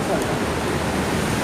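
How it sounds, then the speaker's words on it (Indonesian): Ocean waves at Balekambang beach in Malang, East Java, a steady broadband wash of surf rolling continuously and close, filling the whole moment with dense roaring noise. "Kalau ombaknya itu nggak Biasa ya"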